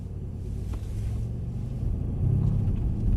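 A Mercedes C63 AMG drives around a skid pan at low speed, its engine giving a steady low rumble that swells slightly as it turns, fairly quiet and with no voices over it.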